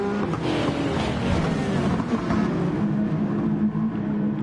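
A pack of GT 500 race cars in GT Sport runs bunched together, a dense steady roar of several engines droning and revving at once, loud and continuous with no gaps.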